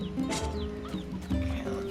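Close, rapid clucking from chickens in the video game NieR Replicant, a couple of quick bursts of squawks overlapping each other.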